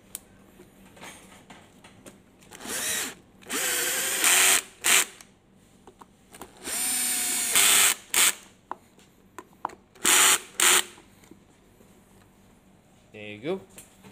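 A power drill drives screws into an e-scooter in bursts, several loud whirring runs of a second or two each separated by pauses, with a person talking in between.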